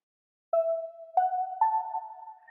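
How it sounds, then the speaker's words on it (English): Three soft, bell-like synth tones sound in quick succession, each sustaining and shimmering gently, alone against silence. "we just have the slight glitter noise that goes"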